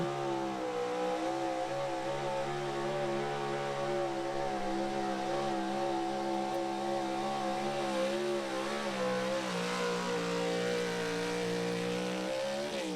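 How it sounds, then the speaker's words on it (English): A big-block 4x4 truck engine screams at sustained high RPM down a drag track at night, a loud continuous roar with harmonic whine and slight pitch shifts, close and alone. "That truck was just screaming RPMs down the track."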